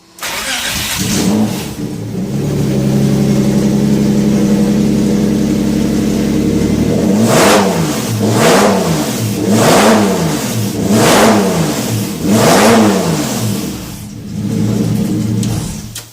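A Porsche 917/10 replica's engine idles with a low steady rumble, then revs up in four or five rhythmic bursts, each swelling and falling back, close by.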